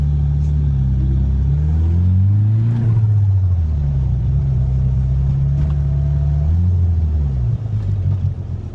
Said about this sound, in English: It's a nice Corvette.